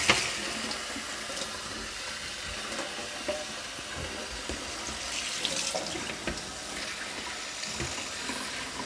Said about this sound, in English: Just running it under some hot water.